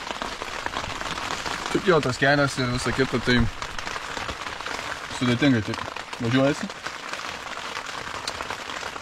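Rain patters steadily on surfaces throughout a bicycle trip around Lithuania, a constant close hiss with someone talking over it in short bursts.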